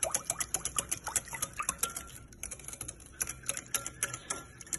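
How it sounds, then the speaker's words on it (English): Wet ingredients for a red moist cake being whisked in a bowl: a fast, steady run of light metallic ticks and clatters from the whisk hitting the bowl's sides, close but fairly quiet, with no talking. "And I just whisk it together."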